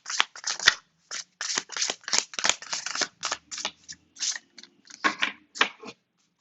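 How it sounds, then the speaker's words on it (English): Tarot cards shuffled by hand in a quiet room, a run of short crisp riffling bursts repeating in an uneven rhythm, close and fairly soft, with no talking. "I'm going to shuffle."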